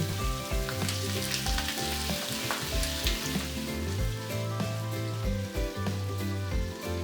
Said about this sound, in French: Dans une sauteuse à feu moyen, mettre 2 cuillerées à soupe d'huile. Faire dorer la viande.